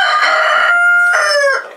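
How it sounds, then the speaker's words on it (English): Roosters on a farm crow loudly and close, two drawn-out overlapping calls running back to back, with no other sound around them. "they're all deciding to crow at the same time"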